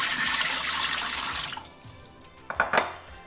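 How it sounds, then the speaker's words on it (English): Water pours with a splashing, rushing stream into a tamalera steamer pot, steady for about a second and a half, then tapers off, followed by a few metallic clanks of the pot. "Add your water to your tamalera."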